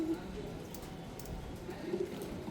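A pigeon coos softly in a short, repeated pattern while drops are put into its eye for an eye problem, with a low voice and background murmur nearby.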